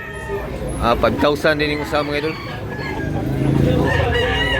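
A rooster for sale at a Cebu market, clucking in a rapid run of calls, then crowing loudly up close, with a voice talking over it.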